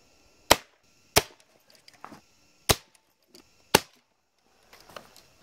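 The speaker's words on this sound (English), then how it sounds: "I'm gonna shoot this package open because I don't have my switchblade" A Nova Freedom PCP air rifle fires pellets into a cardboard package: four sharp, loud cracks spaced about a second apart, followed by a few fainter ticks and impacts.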